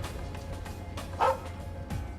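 A dog in the PS3 game The Legend of Heroes: Trails of Cold Steel II gives one short, moderately loud bark over a low, steady game background hum.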